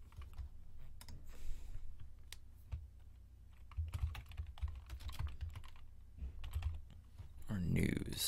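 Rapid bursts of computer-keyboard typing, close and fairly quiet, with irregular clicks and short pauses between keystrokes, ending in a brief louder rustle.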